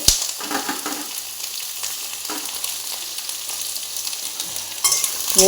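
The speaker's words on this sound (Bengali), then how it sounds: "একটু নাড়াচাড়া করব একটুখানি তরকারিটা" Labra chorchori, a mixed vegetable curry with aubergine, being stirred in a pan, giving a steady sizzle with scraping and clinking of the spoon against the metal. There is no talking.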